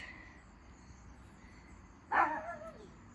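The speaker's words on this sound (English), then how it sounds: "I have a barking dog now" A dog lets out a single sharp bark at a middle distance outdoors in a garden, breaking an otherwise quiet background with faint insect hum.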